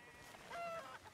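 A rooster crows once in Red Dead Redemption 2, a faint, brief, drawn-out call heard at a distance against a quiet background.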